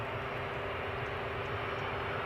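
Fixed-wing airplane engine noise at Newcastle airport, a steady broadband roar holding constant throughout, moderately distant with no talk over it.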